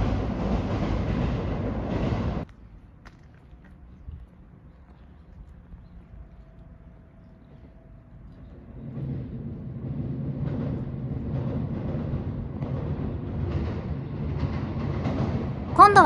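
A down Iida Line train rumbles loudly across the rail bridge over the Toyokawa River near Toyohashi, the roar building steadily from quiet and holding strong and close to the end, after an earlier train fades out.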